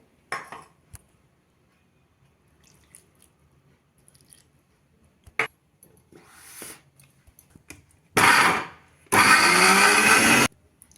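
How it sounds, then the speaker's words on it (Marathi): A mixer grinder whirs loudly in two bursts near the end, grinding sliced ginger with water, a short run then a longer steady grind, after quiet handling noises and clinks. "आल्याच्या गोल चकत्या कापल्यात, त्या मिक्सरमध्ये घालून घेते."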